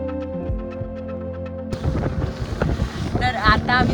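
A small boat rides over sea waves off the Konkan coast near Malvan, with loud wind buffeting the microphone, water splashing and a steady engine-like hum, a droning tone giving way to rough rushing noise.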